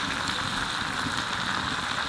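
Potatoes go into a pan of mutton being cooked down with spices, giving a steady, dense sizzle and crackle of frying that holds evenly for the whole moment.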